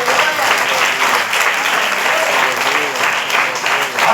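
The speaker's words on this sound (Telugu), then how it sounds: "గట్టిగా చప్పట్లు కొట్టి ప్రభువుని" A church congregation claps loudly and steadily during praise worship, a dense, continuous roar of many hands that carries through the whole stretch without a break.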